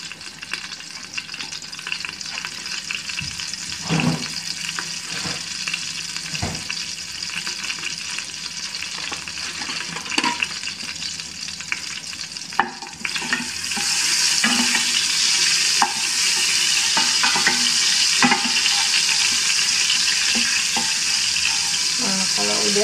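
Butter melting and sizzling in a frying pan as the base for nasi mandhi, a steady crackling fry with a few soft clinks, growing louder and denser toward the end.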